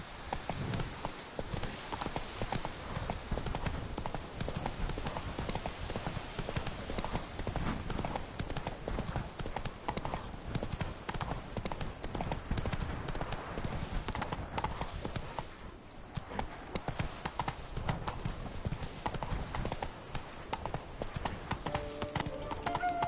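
Horse hooves gallop in the video game The Witcher 3, a loud, dense and continuous pounding rhythm that runs throughout without pause.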